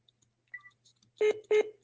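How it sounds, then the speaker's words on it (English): Repeated electronic beeping during a phone or online group call, a couple of faint short chirps and then two louder, clipped tonal beeps in quick succession, with no voices. "Do you all hear the beeping?"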